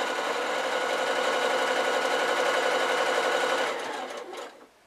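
A sewing machine stitches fabric for drawstring Christmas sacks, a close, steady rapid whirring chatter that runs evenly, then slows and winds down near the end.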